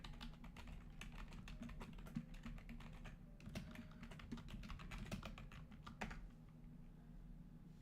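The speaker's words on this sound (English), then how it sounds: "I've been told my keyboard is very loud" Loud computer keyboard typing, a steady stream of close, dense key clacks with occasional heavier strokes, continuing throughout and easing slightly near the end.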